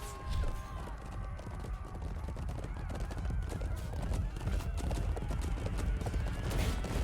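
Horses gallop during a Chivalry 2 battle, with quick, dense hoofbeat clatter running steadily through the clip amid rumbling combat noise, fairly quiet overall.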